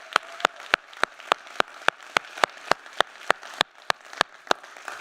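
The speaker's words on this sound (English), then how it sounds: "Give her a round of applause." Applause at a downtown economic forum, heard as sharp, evenly spaced single claps close to the microphone, about three per second, over a faint crowd background with no talk.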